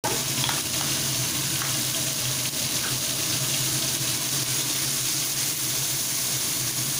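Grated ginger and slit green chilies fry in hot oil for a winter vegetable dish, giving a steady, even sizzle that runs throughout with no one talking.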